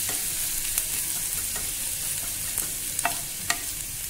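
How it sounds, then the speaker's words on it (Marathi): Crushed garlic sautéing in a pan, a continuous quiet sizzle with a few sharp ticks and spatters of the frying oil. "आता आपण त्याच्यामध्ये लसूण ठेचलेला घालूया, चांगला परतून घ्यायचा आहे तो, थोडासा लाल होईपर्यंत किंचित"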